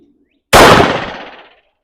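A single loud, close gunshot from a Smith & Wesson M&P 5.7 pistol firing hot handloads, a sharp crack followed by a roughly one-second decaying echo.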